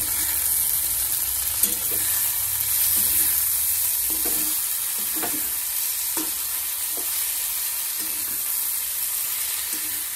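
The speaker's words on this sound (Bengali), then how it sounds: "এদিকে করে নিচ্ছি আলু পটল দিয়ে একটা গা মাখা চচ্চড়ি।" Potato and pointed gourd curry being fried in a pan, with a steady close sizzle and regular scraping stirs of the spatula through the vegetables, with no talk.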